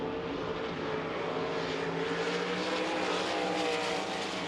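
RaceSaver sprint cars race at I-80 Speedway with a loud, sustained engine roar that rises and swells as the cars pass. The dense drone fills the whole stretch with no break.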